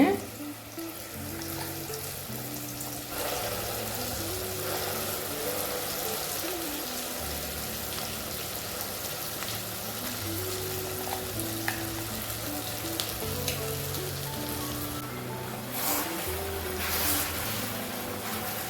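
Ground tomato paste sizzling with browned garlic in a pan on a medium flame, a dense, steady frying hiss throughout with occasional stirring scrapes and faint background voices.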